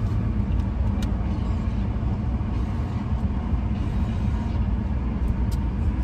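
Road traffic heard from a van sitting in a jam, a continuous loud rumble of engines and passing vehicles with no clear breaks and no speech.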